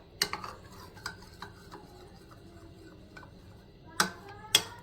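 Spoon stirring vinegar into a chilli chicken sauce in a bowl, a few sharp clinks and taps of metal against the dish spaced over quiet, with two louder knocks near the end.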